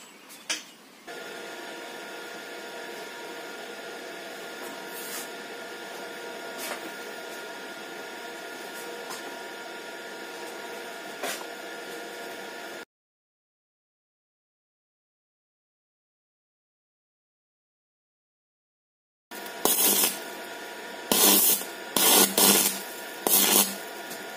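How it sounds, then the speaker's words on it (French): Steady abrasive sanding on a metal frame support for a beehive, made with sandpaper before welding, runs for about twelve seconds, then falls silent. A few sharp scraping bursts follow near the end. "Je vais mettre un coup de papier de verre pour pouvoir déjà que ça soit un peu plus propre et puis que la soudure puisse tenir"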